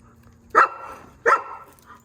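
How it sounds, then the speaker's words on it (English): A young puppy barks twice, near and fairly loud, with a short pause between the sharp yips, over a quiet low background hum. "That's a puppy."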